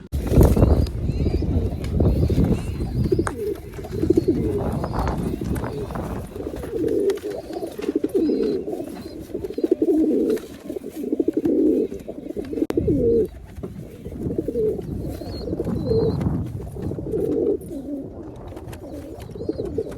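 Pigeons in a loft coo close by in a continuous rolling murmur of overlapping low, throaty calls. The sound rises and falls throughout, with some rustling.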